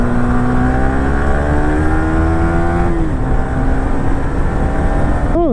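Red Audi car driving past on a busy Indian road: a loud, steady engine drone whose pitch slowly sinks as it goes by, with another engine rising sharply at the end.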